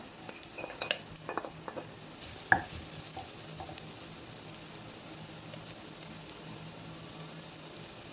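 Finely chopped carrot stirred in a pan for broken-wheat rava uppumavu: a spoon clinks and scrapes against the metal in short bursts early on, then a soft, steady sizzle continues close by without talking.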